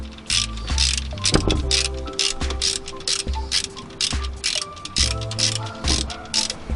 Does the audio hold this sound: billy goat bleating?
no